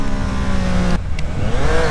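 Triumph Street Triple RS motorcycle accelerating hard in first gear, its loud, close engine note climbing steadily, cutting out briefly midway, then pulling again, with no talking.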